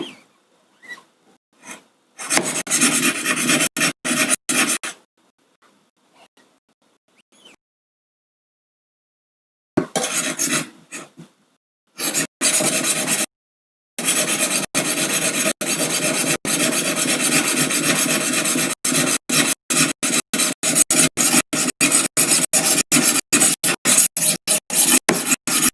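A knife blade is drawn again and again across the stones of a Wicked Edge Go sharpener with dry, rasping strokes. Bursts of quick back-and-forth scraping alternate with brief pauses, and the sound is close and loud.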